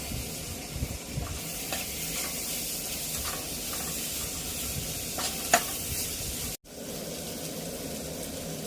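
Turmeric and ginger garlic paste being stirred in a frying pan for an egg capsicum curry, a continuous soft sizzle and hiss with occasional spoon scrapes, briefly cut by a short dropout near the end.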